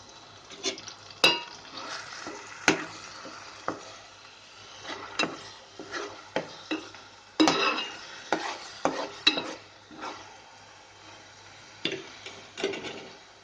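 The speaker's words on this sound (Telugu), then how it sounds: "వేయించుకోవాలండి ఇలాగా." Onion, coriander and cumin paste fries in a pan with a soft sizzle, broken by repeated sharp spatula scrapes and taps against the pan at an irregular pace, close and fairly clear.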